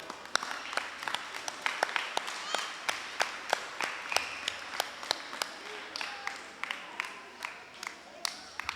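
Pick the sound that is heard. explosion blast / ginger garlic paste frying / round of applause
round of applause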